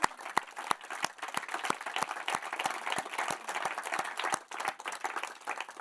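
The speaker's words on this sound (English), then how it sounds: "Another round of applause," Applause from a concert audience, with a few sharp, distinct claps close by standing out over a thinner background of clapping, moderately quiet and sustained for several seconds.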